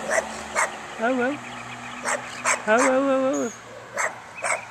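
A dog gives several short yips and whimpering, howl-like cries, mixed in with a person repeatedly calling out over it, close by and fairly loud.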